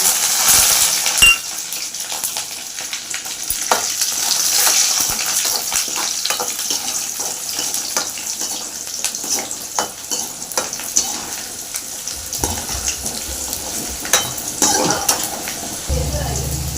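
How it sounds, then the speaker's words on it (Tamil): Garlic drops into hot oil already crackling with mustard seeds and fenugreek for a Tamil-style egg curry, giving a steady close sizzle and frying hiss with occasional clinks of a spoon against the pan. "இப்போ நம்ம பூண்டு போட்டுக்கலாம்."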